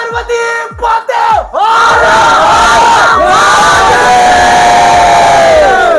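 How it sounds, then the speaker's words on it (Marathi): Festival crowd at the Shimga celebration in Shrivardhan roars and yells together, starting with a few sharp shouts and then swelling into a loud, sustained wall of cheering close by. "श्रीवर्धनकरांचा हा जल्लोष तुम्हाला वेळोवेळी पाहायला तर मिळतो"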